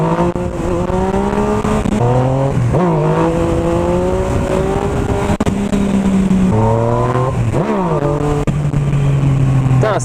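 A Yamaha MT-09 motorcycle revs and accelerates hard nearby, its engine note climbing, dropping at gear changes, then climbing again in loud repeated surges.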